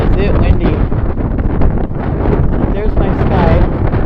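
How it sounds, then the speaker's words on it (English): Heavy wind buffeting an earpiece microphone on a blustery outdoor day, a loud rumbling roar with gusty surges throughout, with no clear speech. "Boy, is it windy."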